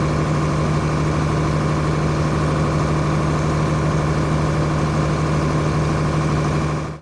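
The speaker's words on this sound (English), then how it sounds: "you'll be actually able to hear the engine just change pitch a little bit" A John Deere 4850 tractor engine idles steadily and loudly throughout, with a constant low drone and only slight pitch shifts as injectors are cracked one by one.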